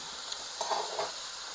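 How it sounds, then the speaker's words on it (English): Slices of round steak brown in a pan, giving a steady, soft sizzle with a couple of brief stirring scrapes, close up and with no talking. "take a pound and a half of round steak, and I cut it in slices like so, and I'm going to brown that"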